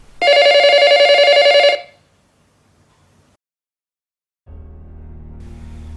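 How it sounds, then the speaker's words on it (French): A telephone rings loudly and close in one long, steady electronic ring, followed by a pause and then a low hum. "mon téléphone s'est mis à sonner"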